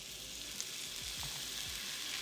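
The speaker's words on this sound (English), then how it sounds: "We'll transfer our potatoes over to our pan." Potatoes frying in hot oil in a pan, a soft, even sizzle hiss with a few faint low bumps as pieces settle, fairly quiet and unbroken.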